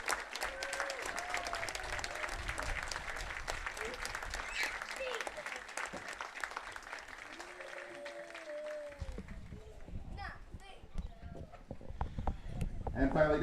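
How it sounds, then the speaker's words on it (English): A crowd at a high school baseball senior ceremony applauds in a sustained round of clapping, with cheering and voices mixed in, fading somewhat toward the end. "give us one more round of applause for our 2025 Kahok"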